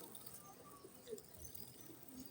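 Soft cooing of a blue-eyed pigeon, low and faint, repeating quietly against a murky background hum.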